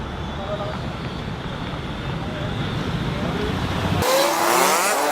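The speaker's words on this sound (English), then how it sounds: "a freaking car decides to ruin the shot" A car drives past on a street in the Dominican Republic, a rising road hiss that swells and then cuts off abruptly near the end, heard fairly close amid ambient street noise.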